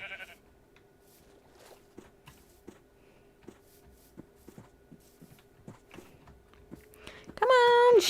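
Sheep bleating in Minecraft survival, a loud wavering bleat near the end that follows several quiet steps and clicks.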